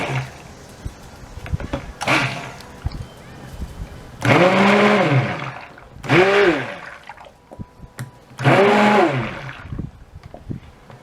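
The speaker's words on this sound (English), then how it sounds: "Alright, so I'm going to blend this up." A blender whirs in three separate bursts as it blends soap-making ingredients, each pulse loud and close, with quieter room noise and handling sounds between the bursts.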